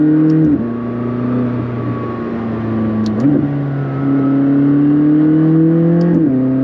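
A McLaren 600LT's turbocharged engine pulls hard up through the gears, close and loud, its rising revs broken by shifts about every three seconds, with a few small pops at the changes.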